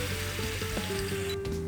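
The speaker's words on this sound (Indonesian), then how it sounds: "Jadi ini bumbunya kita tumis dulu sebentar." Ground spice paste sautés in a pan for a goat meat dish, giving a steady close-up sizzle and crackle with faint tonal hum beneath it.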